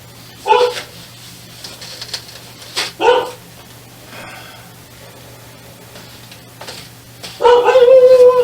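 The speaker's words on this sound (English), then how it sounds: "Sorry if you hear my dog, she sees something outside." A dog barks indoors in short bursts, a few separated yelps and then a louder run of barking near the end, over a low steady hum.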